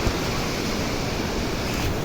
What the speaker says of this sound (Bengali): ছোট ছোট শিল পড়ছে।